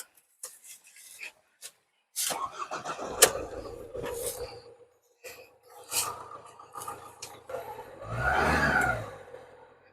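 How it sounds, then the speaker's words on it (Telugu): A used car's engine cranks over in a roadside used-car market, with scattered knocks and handling noises early on, then a broad engine roar swelling near the end as it catches. "ఫైనల్లీ ఇంజిన్ కూడా స్టార్ట్ చేసి చూపిస్తాను"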